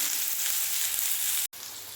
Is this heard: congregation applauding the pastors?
no